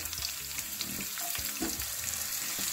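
Green chillies and finely chopped onion sautéing in oil for turichi usal, a continuous close sizzle with intermittent stirring knocks and scrapes against the pan, no voices.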